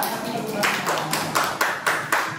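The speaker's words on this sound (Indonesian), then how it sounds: "Tepuk tangannya mana?" A group claps hands at a classroom-style gathering, a few distinct rhythmic claps in slightly ragged unison, fairly close.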